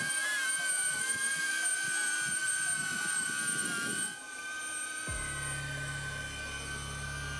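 A DJI Avata FPV cinewhoop drone with prop guards flies a manual orbit, giving a steady, loud high-pitched propeller whine with sustained tonal hum that shifts in pitch midway, with no talking.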